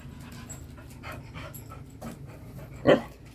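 A dog pants quickly and steadily up close, soft rhythmic breaths, with a brief louder snort or huff near the end.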